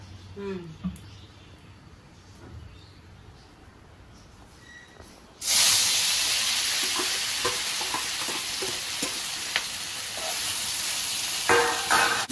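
A potato peel mixture hits hot oil after a few quiet seconds, bursting into a loud, continuous close-up sizzle and hiss that holds steady to the end.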